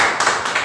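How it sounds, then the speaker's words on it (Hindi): A church congregation claps for the worship team at a Sunday evening service, a dense burst of applause with uneven swells over under a second, close and fairly loud. "तो क्यों ना हम वर्शिप टीम के लिए ताली बजाएं और प्रोत्साहित करें।"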